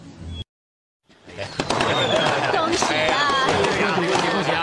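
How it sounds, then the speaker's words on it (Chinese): After a brief silence, a dense crackle of firecrackers bursts out at a birthday celebration, rapid popping snaps continuing loudly alongside a jumble of background voices. "在锣鼓喧天的鞭炮声中"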